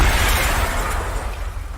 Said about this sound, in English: I flung myself at the window and shattered the glass